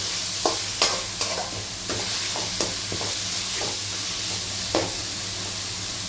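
Two large cut tomatoes fry in a pan while being stirred, producing a constant close sizzle broken by repeated sharp scraping strokes of the spoon.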